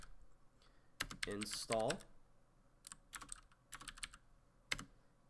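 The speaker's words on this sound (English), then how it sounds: "The way you'll accomplish this is by typing in pip" Keystrokes on a computer keyboard while entering a software install command on a Windows PC: scattered clicks and short bursts of typing around a brief stretch of speech.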